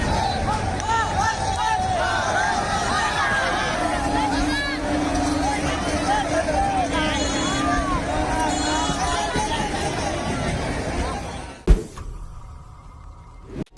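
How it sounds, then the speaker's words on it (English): A packed rush-hour train in Bangladesh, with a loud, continuous crowd babble of many voices and movement, then a sudden sharp cut to quieter sound near the end. "Next time you complain about crowds during rush hour, remember this train in Bangladesh."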